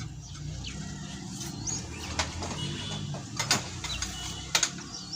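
Metal ring light stand being extended and tightened, with small clicks, scrapes and ratcheting knob turns close by, a few sharper taps standing out against quiet room noise.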